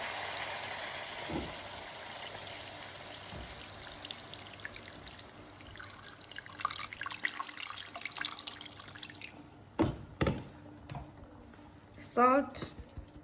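Steady trickling and pouring of one liter of water into a pot of pork belly, garlic and vinegar runs through most of the clip, with a few clinks and sharp knocks near the end.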